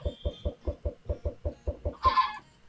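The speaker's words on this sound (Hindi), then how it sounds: "यहीं पर मुर्गियाँ पैदा हो रही है" Chickens in the video game Minecraft, spawned from thrown eggs, give a steady run of about a dozen short, evenly spaced clucks, ending in a brighter squawk-like burst.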